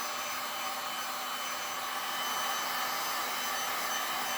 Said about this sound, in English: Heat the whole surface first, like heat up the resin before you try to move it around.